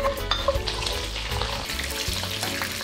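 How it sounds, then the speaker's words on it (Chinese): Scallion, ginger, garlic and star anise stir-fried in hot oil for braised pork hock, a steady close sizzle with scraping stir strokes, no talking. "锅里底油，把这些葱姜蒜大料给它煎炒一下"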